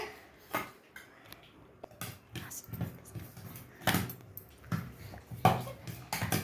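Sweet corn being mixed in a bowl with a spoon, giving scattered clinks and scraping knocks at an uneven pace, moderately close, with quiet gaps between the strikes.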